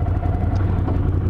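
A Ducati Scrambler with its stock exhaust idles nearby, giving a steady, subdued low rumble with an even throb and no change in revs.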